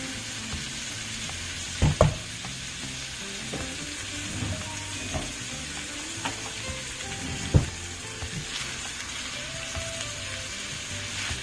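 Tofu sautéing with seasonings in a pan for teriyaki chow mein makes a continuous sizzle and hiss, with a few sharp utensil knocks against the pan along the way.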